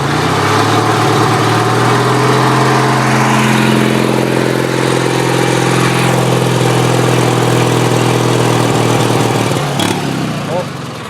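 A Craftsman II GT6000 garden tractor, fitted with a Bercomac cab and snowblower, runs its engine loudly and close by, holding a steady rising drone before it drops away near the end.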